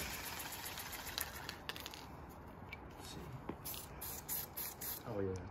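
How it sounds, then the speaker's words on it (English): Spray paint can fitted with a chisel tip cap, shaken quietly and then sprayed at an empty skatepark; a soft steady hiss runs throughout with faint rattling taps, while voices murmur briefly near the end. "This is how I shake paint if I'm trying to be quiet."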